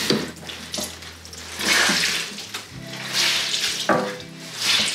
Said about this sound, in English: get the dirty water out, and then I just put a little cold water on it